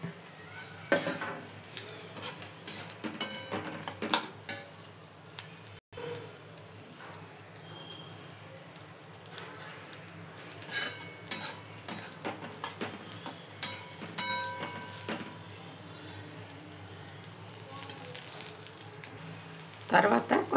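Sliced okra sizzles steadily in a pan as peanut powder is stirred in, with occasional metallic clinks and scrapes of a spoon against the pan.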